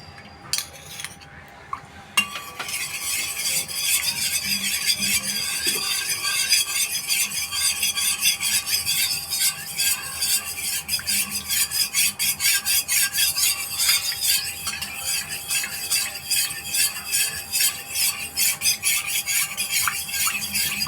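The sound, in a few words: mixing fafda dough with oil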